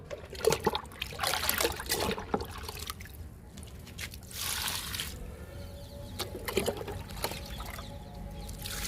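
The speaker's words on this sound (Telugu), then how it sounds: "డబ్బాలో కూడా పోస్తున్నా" Liquid fertilizer is poured onto garden plants, including ridge gourd and okra, as close trickling and splashing that comes in uneven bursts and dribbles, with no one speaking.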